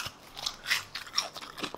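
Crisp crunching bites and chewing up close on beer-battered fried food, a series of brittle crackles spread over a couple of seconds with no talking.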